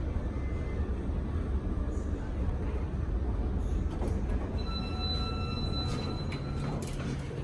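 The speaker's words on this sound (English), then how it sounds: "This is a normal hydraulic one, not a hydrofit." An Otis Series NS2 hydraulic elevator running in a Las Vegas mall, a steady low rumbling hum close by, with faint squeaks and a brief higher whine later on.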